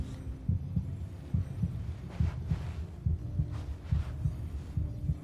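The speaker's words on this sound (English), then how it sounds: "I don't like the heartbeat sounds." A throbbing heartbeat sound effect in the video game Genshin Impact pulses in steady lub-dub pairs, low and fairly loud, repeating evenly with a faint hum beneath and no talking.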